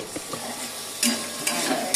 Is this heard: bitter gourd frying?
yes